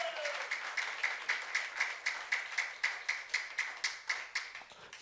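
A church youth-service congregation claps together in a steady, even rhythm of sharp beats, moderately loud and sustained throughout with no talk over it.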